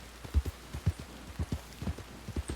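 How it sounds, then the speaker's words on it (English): Horse hooves clip-clop steadily in a Western role-play video game, a male horse walking with regular paired thuds repeating throughout, fairly close and alone with no voices. "the game keeps spawning me a male horse"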